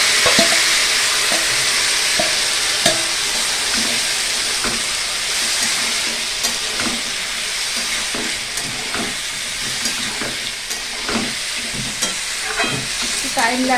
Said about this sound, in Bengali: পেঁয়াজটা লালচে করে ভেজে নিই